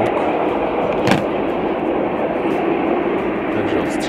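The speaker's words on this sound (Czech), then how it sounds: "Jede nám vlak ze zádu." A train passes behind a carp-fishing spot, a steady broad rumble holding at even loudness throughout, close enough to dominate the scene.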